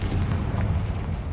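A Confringo fire-spell blast in Hogwarts Legacy, a deep, rumbling explosion that booms loud and steady for its whole short length with no clear onset or fade.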